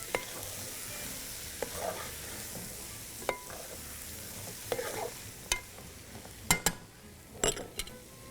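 Hari mirch qeema with green chillies, ginger and onion is mixed in a pan, a faint low sizzle under a series of sharp spoon clacks and scrapes that grow more frequent toward the end, with no voices.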